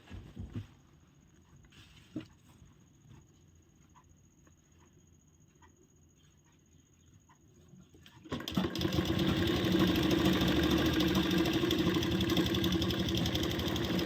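A sewing machine runs steadily and loudly, stitching the crotch seam of a plazo, after a quiet stretch with a few small clicks as the fabric is set in place.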